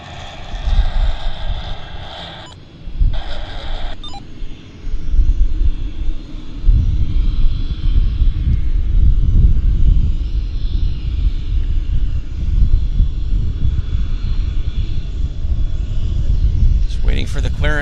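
Air China airliner at Vancouver Airport, a loud sustained low engine rumble that builds and holds throughout, with people talking over it.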